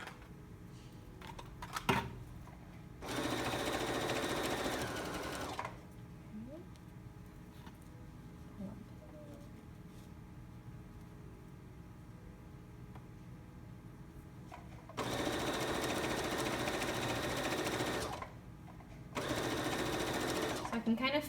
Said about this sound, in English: drop your needle, drop your presser foot, and stitch across